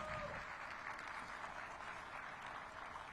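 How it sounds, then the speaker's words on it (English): Audience applause at a mayoral event in downtown DC, a continuous even patter of many clapping hands heard at moderate distance and fairly quiet, filling the whole short stretch without pause. "give them a round of applause"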